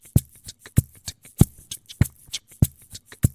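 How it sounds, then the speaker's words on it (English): Looped percussion built on a loop station plays a steady, crisp pattern of sharp drum hits and lighter ticks that repeats evenly with no voices. "Now what you're hearing now is the percussion or the drums."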